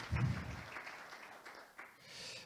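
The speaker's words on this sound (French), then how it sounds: "Alors, voilà des applaudissements." Applause at a conference session, a brief burst of clapping that fades quickly into quieter scattered claps.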